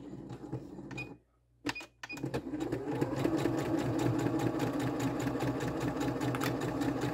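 Domestic sewing machine stitching with no presser foot, run from its start/stop button: a steady rapid mechanical chatter after a short stop-start, close and continuous, with no voices.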